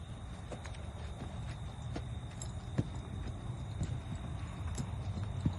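A young Belgian draft horse gelding, three years old, walks with steady, moderately distant hoof clip-clops on a hard surface over a constant low background hum.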